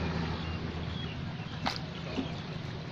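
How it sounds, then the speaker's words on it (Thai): A river flows strongly with a steady, close rushing wash of water, broken briefly by a couple of faint knocks. "น้ำไหลแรงครับ"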